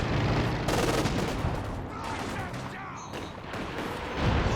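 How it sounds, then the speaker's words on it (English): A Katyusha rocket barrage in the Company of Heroes 2 video game lands in a dense, rumbling stream of blasts and crackling fire, loud throughout. "Oh, good Katyusha barrage."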